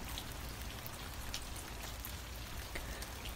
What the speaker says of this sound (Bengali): বাইরে বৃষ্টি তার গতি প্রকৃতি বেশ মাতাল করে তুলেছে।